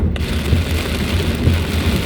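Heavy typhoon rain pours steadily during a road trip in Typhoon Crising, a dense continuous roar with low rumbling underneath and no voices.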